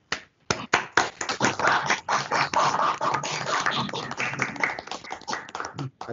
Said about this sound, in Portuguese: eu gostaria que todos dessem uma salva de palmas